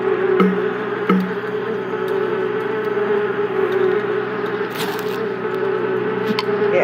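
Insects buzzing in the Murder She Wrote video game, with wasps droning steadily throughout at close range, alone with no talk.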